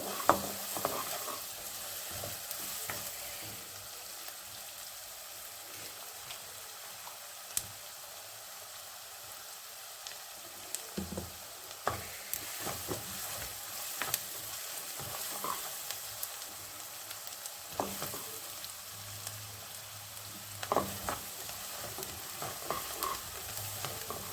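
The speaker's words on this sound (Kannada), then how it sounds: "ಚೆನ್ನಾಗಿ ಫ್ರೈ ಆಗಲಿ." Pav bhaji ingredients fry steadily in a pan, a soft continuous sizzle with occasional scraping stirs and clinks, moderately quiet and close, with no voices.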